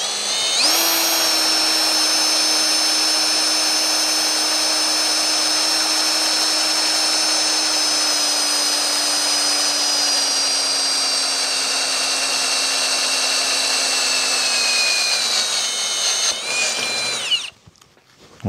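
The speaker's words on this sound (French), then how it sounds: "j'ai aussi appliqué un peu d'huile de coupe pour éviter que mon foret ne chauffe trop durant le perçage" AEG BS18SBL2 cordless drill boring into metal with a cutting-oil-lubricated bit: a loud, steady high whine held close for about seventeen seconds, the pitch sagging slightly under load before the motor cuts off abruptly.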